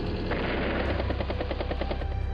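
A battlecopter helicopter unit in the video game Advance Wars: Days of Ruin, a loud, steady rotor chop with rapid rhythmic pulses of machine-gun-like fire, short and alone.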